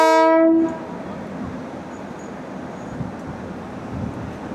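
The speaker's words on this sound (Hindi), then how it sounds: "यहाँ से अभी ये लोको लगाया जा रहा है पीछे की तरफ" Indian Railways Humsafar Express locomotive being coupled at a station: a loud multi-tone train horn blast opens, then cuts off to a steady low rumble of idling engine and yard noise with faint clanks.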